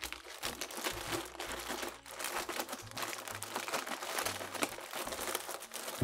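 Plastic parcel packaging being opened, with steady crinkling and crunching throughout, close and fairly quiet, no talk over it.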